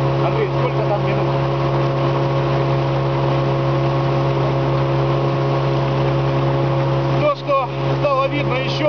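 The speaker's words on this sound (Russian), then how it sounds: "Сейчас мотолодка идет по реке Волхов." A motorboat engine runs steadily and loudly on the Volkhov river, a constant droning hum throughout, with a brief dip and some bumping near the end.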